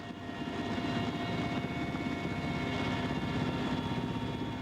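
A Russian helicopter carrying parachutists flies with a steady, moderately distant rotor and engine drone, continuous and even throughout, with no voices.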